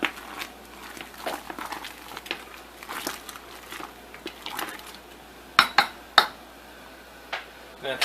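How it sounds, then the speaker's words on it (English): Metal spoon scraping and clinking against a home-brew pot while stirring boiling beer wort with late hops, a soft bubbling bed under scattered knocks and a few sharp louder clanks near the end. "And we're going to give this a good stir."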